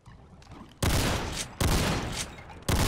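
Three loud, dense bursts of hand cannon fire in Brutal Doom (Project Brutality, Scythe 2 maps), each a heavy blast with a long ringing tail, following a quieter stretch of background game noise.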